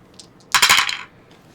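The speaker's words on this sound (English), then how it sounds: "now we roll all 3 dice" Three dice tumbling across a tabletop in a Reef & Ruins board game session, a single quick clattering burst of rattles lasting about half a second, close and fairly loud after near silence.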